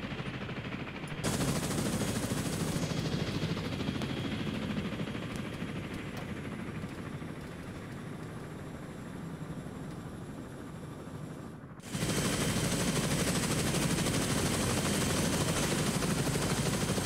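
Sustained heavy gunfire in ARMA 3, dense continuous bursts with a roaring engine-like drone beneath, dipping briefly before an abrupt loud return of firing near the end.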